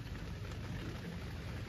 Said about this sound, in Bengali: এখানে দেখতে পাচ্ছেন কন্টিনিউ বৃষ্টি পড়ছে।